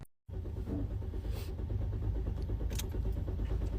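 A Ford truck's starter keeps grinding after the key is released, a loud continuous mechanical whir with a steady engine-like drone that begins abruptly and runs without pause.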